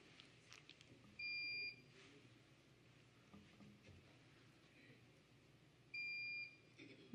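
Two loud electronic alarm beeps sound during a church sermon, each a steady high tone lasting about half a second, about five seconds apart, over faint room noise.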